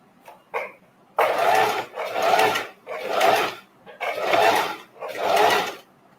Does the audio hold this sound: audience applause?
no